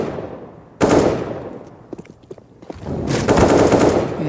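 Gunfire from the video game Counter-Strike on the map Mirage during a professional match: a loud burst of rapid automatic fire, a few scattered single shots, then another sustained volley, all close and without talk.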